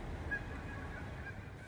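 Faint, distant honking from geese during an evening goose hunt, a couple of brief calls over a quiet low background.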